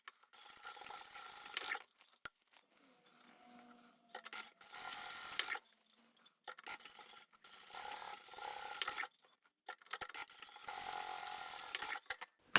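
A sewing machine stitches across the corners of a small craft tote bag in several bursts of rapid mechanical chatter, each a second or two long, broken by quiet pauses with faint clicks and handling.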